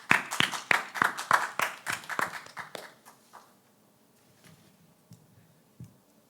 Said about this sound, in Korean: 하나님께 우리의 믿음을 고백하며 다시 한번 박수로 찬양 올려드립니다.